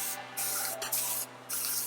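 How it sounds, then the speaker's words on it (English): A handheld spray bottle mists water onto hair in three quick, close bursts, each a short airy hiss, with nothing else in the background. "So I'm going to do a little spray."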